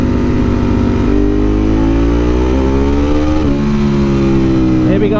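Motorcycle engine in third gear revving up loudly and steadily, rising pitch through a gear change midway, with wind noise throughout; a rider talks over it.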